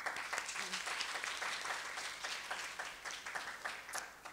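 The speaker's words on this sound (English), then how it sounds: "Please welcome Ms. Patricia Parris with a round of applause" Audience applause following the introduction of a speaker at a multidisciplinary conference lecture, a dense, steady wash of many clapping hands that stays loud throughout without pause.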